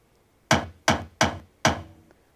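A kick drum sample played four times by JavaScript code: four dry, punchy thuds in a steady row with slightly uneven spacing, each fading fast, heard alone.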